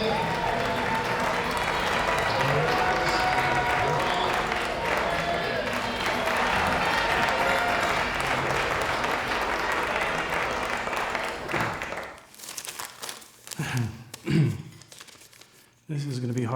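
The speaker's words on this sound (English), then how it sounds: "Big round of applause for Chris." Wedding guests give a sustained round of applause for the best man, dense clapping filling the room before breaking off into a few scattered claps and then near quiet.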